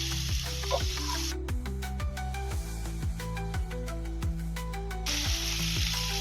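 Chopped onion and tomato frying in a pan for Indo-Chinese chilli paneer, a steady close sizzle with a run of tonal notes sounding over it throughout.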